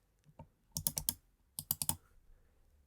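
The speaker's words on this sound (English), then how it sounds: "The main two buttons are large and have a super satisfying click when you apply pressure." Main buttons on a Logitech MX Master 2S mouse clicking, a few sharp clicks in two quick bursts of about four, close and crisp against near silence.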